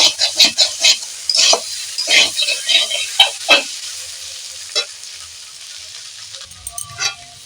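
Boiled potatoes stirred in a pan for Bengali aloo kosha, with repeated scraping and stirring strokes over a light sizzle, close and fairly loud, slowing toward the end.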